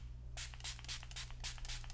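Makeup setting spray with alcohol mists from a bottle in several quick hissing bursts, close and soft, over a low steady hum.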